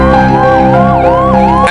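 Ambulance sirens wail loudly and close, a rising and falling electronic tone with overlapping sirens from a long line of ambulances carrying COVID patients.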